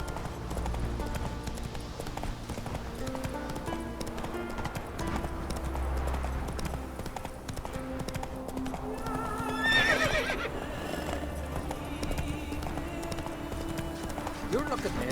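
Roach the horse galloping in a video game: steady clip-clop hoofbeats under continuous music and game sound, with a whinny partway through and voices talking throughout.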